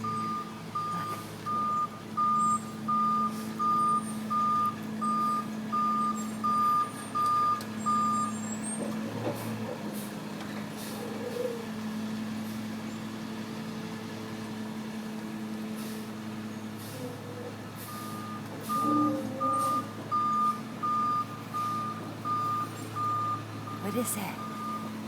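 A recycling truck reversing, its backup alarm beeping in an even repeating rhythm with a pause midway, engine rumbling and air brakes hissing nearby, with occasional voices.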